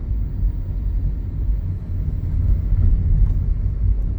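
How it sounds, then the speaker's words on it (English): A small car rolls past on a quiet street in a gated residential community, a low steady rumble that swells gradually as it draws nearer, with no voices. "Nice little car right there."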